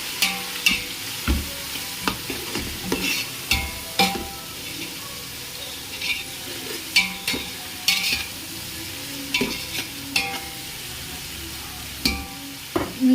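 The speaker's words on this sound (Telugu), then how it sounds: "టమాటో ఫ్రై అయిన ఫ్రెండ్స్ కలుపుకుందాం." Tomatoes sizzle while frying for a chicken biryani, with a spoon repeatedly scraping and knocking against the pan as they are stirred. The strokes come close and irregular over a steady frying hiss, with no talking.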